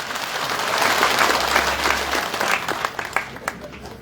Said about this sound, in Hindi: और जिन्होंने मुफ्त लगा ली वो ताली बजा दे मोदी जी के लिए